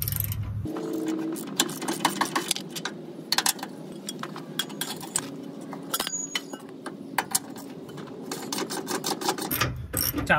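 Rusted bolts on a boat trailer axle being forced loose with a pipe slipped over the wrench for leverage, giving repeated metallic clinks and ratcheting clicks over a steady background hum, fairly close and moderate in level.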